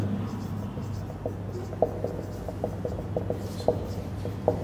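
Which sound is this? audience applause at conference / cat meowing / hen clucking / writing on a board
writing on a board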